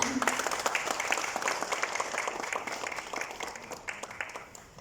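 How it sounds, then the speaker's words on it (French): A hall audience claps steadily at a certificate ceremony for masons in Mauritius, continuous many-handed applause that stays strong throughout and slowly tapers toward the end. "Vos applaudissements."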